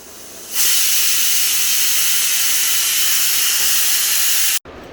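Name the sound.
pressure cooker whistle releasing steam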